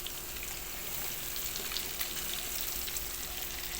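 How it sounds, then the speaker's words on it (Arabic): Breaded kofta frying in hot oil gives a dense, steady crackling sizzle with fine popping throughout, close and even, with no voices. "ننزل بالزيت سخن واحدة واحدة تدريجيا كده، ما ننزلش مرة واحدة بالكفتة بتاعتنا عشان الزيت ما يبردش"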